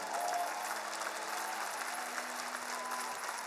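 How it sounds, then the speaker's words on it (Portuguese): Applause from a concert audience at Lisbon's Coliseu, a dense, steady wash of clapping from a large crowd that stays even and sustained throughout, with no voices standing out. "Um aplauso para eles."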